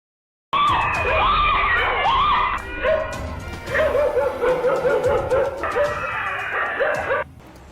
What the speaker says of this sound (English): a man scares off attacking dogs and saves a frightened child